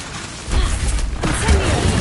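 The Incendio fire spell is cast in the video game Hogwarts Legacy, a sudden loud whooshing burst with a low rumbling boom that swells and carries on briefly, close and forceful.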